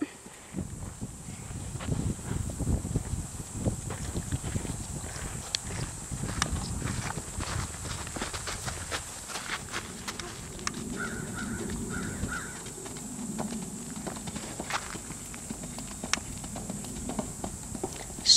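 A horse walking under a young rider during a riding lesson, its hooves giving a steady, moderately close clip-clop rhythm over a continuous background hiss, with no talking.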